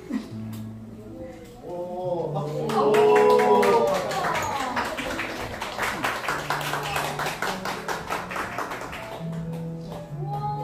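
Fans at a fan meeting for a singer in Pohang break into a burst of rapid clapping that swells and then tapers, with voices talking over it and in the pauses.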